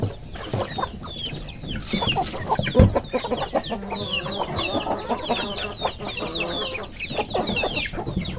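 Pet chicks in a large coop chirp and cluck in a busy, overlapping chorus, with brief louder peeps and some rustling, all close by.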